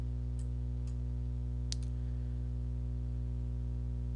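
A few faint, sharp mouse clicks in IGEMS software, spaced irregularly, over a steady low electrical hum.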